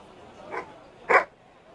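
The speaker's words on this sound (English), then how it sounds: "The dog barks and acknowledges" A dog in a fantasy tabletop role-play session gives two short barks, a softer yip followed by a louder sharper bark, fairly close and clear against a quiet background.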